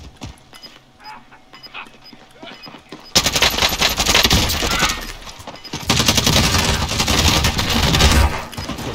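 Automatic gunfire from a weapon in the video game Warzone, quiet scattered shots at first, then sustained loud bursts of rapid fire for most of the clip.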